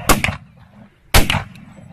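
Two sharp, loud gunshots ring out about a second apart during a hunt, each followed by a short decaying echo, with no speech.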